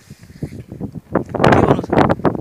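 Gusty wind buffets the microphone at a hilltop fort in Kalikot, Nepal, coming in uneven bursts that swell louder and rougher in the second half.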